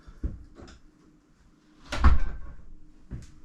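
A loft hatch door in an off-grid cabin swings open with its retractable ladder, giving a few soft knocks and taps before a louder wooden thud and rattle, then one more light knock.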